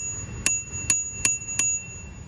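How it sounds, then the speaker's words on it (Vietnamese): Four clear, evenly spaced dings from the bicycle bell on a Panasonic Hurryer electric-assist sports bike, bright and close over a faint low background hum. "Chuông"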